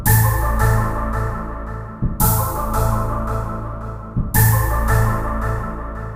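Roland JD-Xi synth plays the X-Files theme melody with delay switched on, bright notes echoing and trailing off in a repeating phrase that restarts about every two seconds, loud and alone.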